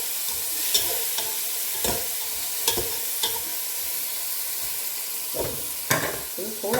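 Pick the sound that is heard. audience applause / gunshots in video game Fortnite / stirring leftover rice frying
stirring leftover rice frying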